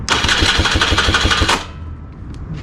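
A 2016 KTM 300xcw two-stroke dirt bike engine cranks over on a new electric starter with the choke off, turning quickly in a steady rapid chug for about a second and a half before stopping, leaving faint background noise.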